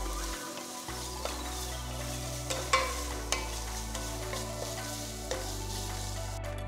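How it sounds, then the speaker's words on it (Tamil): Two small chopped tomatoes fry in a pan for a South Indian chicken soup, giving a steady close sizzle with occasional sharp clicks and scrapes from stirring. "இதோட 2 சின்ன தக்காளி நறுக்கி போட்டு கிண்டுங்க."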